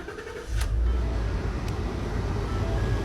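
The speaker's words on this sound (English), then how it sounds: "The truck starts." A Ford F-150 pickup engine cranks briefly and catches, then settles into a steady, loud idle rumble close by, with no talking.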